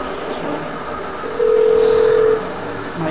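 A single steady phone tone sounds for about a second during a call in GTA V, clear and prominent over quiet background game ambience.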